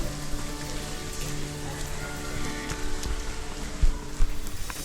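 Steady rain pattering on surfaces outdoors in Sylhet while waiting for a rickshaw, a dense, continuous hiss with a few louder drips and knocks near the end and no speech.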